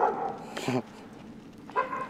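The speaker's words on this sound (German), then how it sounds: "Hund zählt auch als Natur, finde ich. Der darf bellen." A dog barks at a peaceful outdoor spot, giving two short, moderately distant barks about a second apart against a quiet background.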